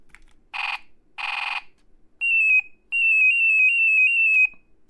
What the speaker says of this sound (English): all ray gun noises